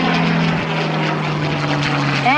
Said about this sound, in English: It is a P-51, and I want you to look at the belly of the airplane.